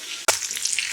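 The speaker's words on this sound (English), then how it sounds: "Bacon's frying up, some of the fats are entering out of the bacon" Diced bacon sizzles in a hot pan, giving a close, steady crackle that starts with a sharp burst and keeps hissing for under a second.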